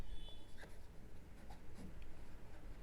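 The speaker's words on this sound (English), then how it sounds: "I have ground the nib a bit to suit my tastes in using it for calligraphy writing" A pastel green Pelikan M200 fountain pen with an extra-fine nib, ground for calligraphy, scratches across paper in short, uneven strokes, close and quiet, with no voices.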